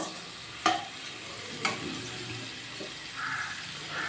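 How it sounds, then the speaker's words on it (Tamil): Garlic sautéing in oil for a Tamil garlic kulambu gives a soft, even sizzle, broken by a couple of sharp knocks of a spoon stirring against the pan, close and with no voices. "நல்ல ஒரு 5 மினிட்ஸ் இப்படியே நம்ம எண்ணெயில் வணக்கி எடுத்துக்கோங்க."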